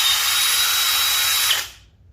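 Flex drill/driver running in speed 2 drill mode with turbo engaged, a loud, steady high-pitched motor whine held close up for about a second and a half before it cuts off and spins down.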